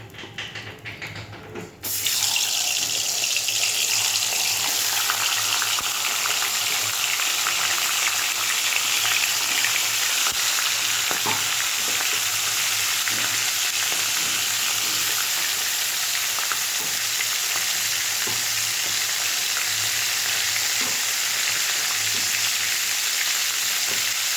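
A fish head drops into hot oil with a sudden loud sizzle that starts after a brief quiet moment, then fries in a dense, steady crackling hiss, with occasional pops, for the rest of the clip.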